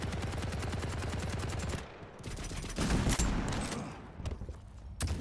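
Gunfire in a Quake Champions deathmatch: a rapid, steady automatic burst, then a brief lull and scattered heavier shots and bursts, loud and close with no voices.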